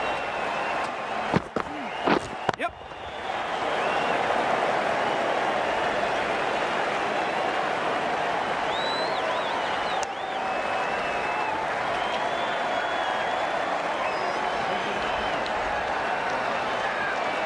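Steady crowd applause and murmur fills a stadium in the Cricket 19 video game, a continuous wash of clapping after a few sharp knocks at the start, with commentary speech running over it.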